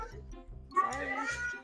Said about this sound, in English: Bro, the cat's singing!